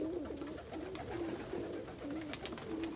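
Black homing pigeons coo in low, repeated rolling calls, several overlapping phrases at a steady pace, close by against a hissy background.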